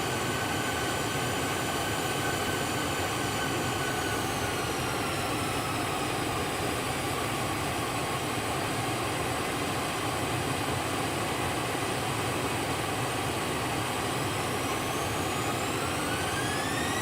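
A Challenger 650 II business jet's engines whine down after landing in X-Plane 12, a steady broadband roar with high turbine tones gliding in pitch, loud and continuous throughout.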